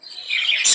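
Budgerigars in a cage, rainbow pairs among them, give a short burst of bright, close chirps that rise into a louder squawky call at the end.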